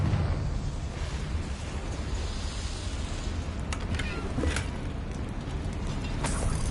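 Confringo explosive spell in the Hogwarts Legacy video game, a dense roaring blast texture with several sharp cracking pops scattered through a continuous loud rumble.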